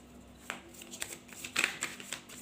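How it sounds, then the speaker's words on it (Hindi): Tarot cards being shuffled in a quiet room, a few soft riffling and flicking bursts with a brief louder snap near the end, close but faint. "One last shuffle."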